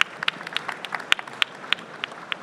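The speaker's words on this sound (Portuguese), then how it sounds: "Salva de palmas para o Fabrício da Judite." An audience at a fintech startup pitch competition claps after a pitch, a thin, scattered round of individual hand claps with an irregular rhythm and no talking.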